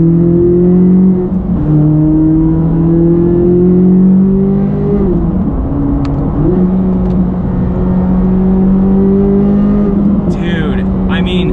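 Corvette C8 Z06 engine in track mode pulling hard under acceleration, a loud, steady, rising drone with gear-change dips around the middle, close and continuous from inside the car with faint voices underneath.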